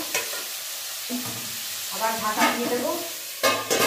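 Potatoes frying in a pan and being stirred for a Bengali vegetarian dish, a steady close sizzle with scraping stirs that swell in bursts and run under brief speech.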